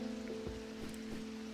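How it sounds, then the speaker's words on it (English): Heavy rain in a video game falls as a steady, dense hiss under a constant electronic hum, with a few soft splashy drops coming through, fairly quiet overall. "this is such loud rain"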